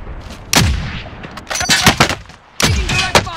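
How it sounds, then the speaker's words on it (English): Bursts of gunfire in Call of Duty Warzone, several loud sharp shots and short volleys close by, separated by brief lulls. "Taking direct fire."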